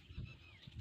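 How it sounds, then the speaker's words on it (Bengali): Birds call briefly and faintly outdoors in a village during a drizzly morning of net fishing, with a thin whistled note over low background rumble. "আর পাখিগুলো কেমন চেঁচাচ্ছে"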